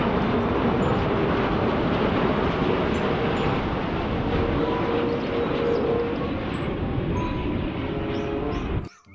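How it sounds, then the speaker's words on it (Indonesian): A large airplane in a cartoon roars steadily and loudly throughout as a dense, continuous engine rumble with no talking, cutting off abruptly at the end. "Wah, pesawat besar."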